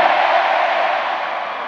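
Festival crowd at a Korea University campus concert roaring and cheering in one loud, sustained wall of shouting that eases only slightly over its short span, with no voice standing out.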